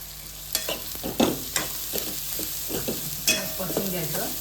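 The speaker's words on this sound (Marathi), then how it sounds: "परतून घ्यायचं शिजेपर्यंत ना." Mushrooms being sautéed with salt and garam masala powder for a Konkani-style alambi bhaji sizzle softly in a pan, with intermittent scraping and stirring clicks from a spoon.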